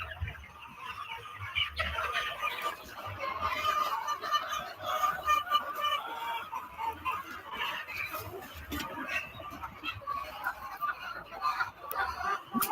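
Chickens on a large poultry farm cluck and chatter as a busy, continuous flock at moderate volume, with people talking over them.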